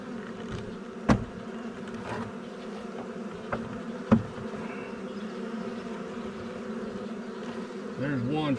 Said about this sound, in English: There's quite a few bees on there.